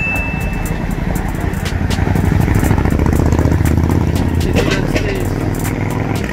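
A motorcycle passes on a London street during a gentleman's ride, its engine rumble rising and staying loud amid surrounding traffic clatter, with no one speaking.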